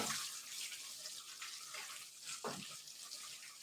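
Water pours steadily from a tap into a pot of cooking fish, a continuous close splashing hiss with a brief heavier gush near the end and no talking.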